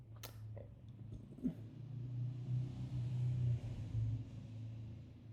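A car passes outside with a low, rumbling engine that swells and lingers over several seconds, moderately distant, with a few faint knocks near the start.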